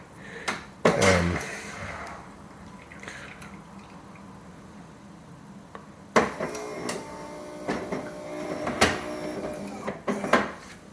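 A Melitta Latticia OT espresso machine clicks, knocks and hums as it dispenses espresso through its nozzles, with bursts of mechanical rattling at the start and again in the second half.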